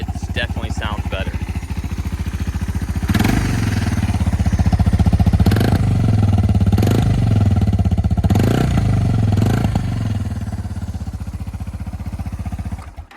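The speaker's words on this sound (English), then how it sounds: "At idle, it's not too much louder, but it's definitely sounds better." Suzuki DR650 motorcycle idling with a GSXR muffler and Procycle mid pipe, a steady, deep, loud thumping exhaust close by with a few brief throttle blips, no talking.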